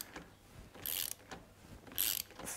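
A ratchet works loose tight bolts on the shaft drive of a BMW motorcycle, giving two close bursts of rapid clicking with softer handling noise between them, fairly quiet and with no talk.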